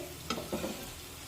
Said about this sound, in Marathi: आता आलं लसूण पेस्ट एखाद मिनिट कांद्यासोबत परतून झाल्यानंतर यामध्ये